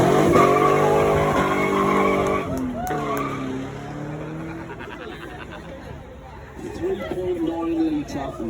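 A car powered by a 3.9 litre Rover V8 of about 260 horsepower drives by at Beaulieu, its deep engine rising and fading through revs, with people talking underneath.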